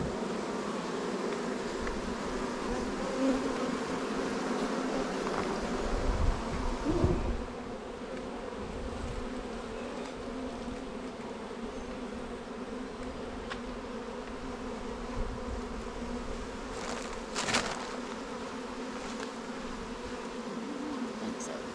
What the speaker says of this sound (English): That it's a regular bee.